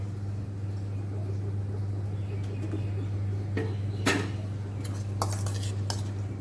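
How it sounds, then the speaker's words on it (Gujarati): Ghee-coated rice goes into boiling milk in a pot on a lowered gas flame while dudh paak is made: soft scrapes and a few sharp clinks of a spoon rise over a steady low burner hum. "હવે આપણે આ ચોખા અંદર એડ કરી દઈશું।"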